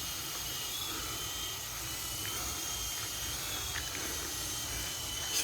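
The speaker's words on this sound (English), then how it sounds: "Sky Rover King helicopter." A Sky Rover King RC helicopter flies outdoors at night near a house, giving a steady, faint whirring buzz under a hissy background with no talking.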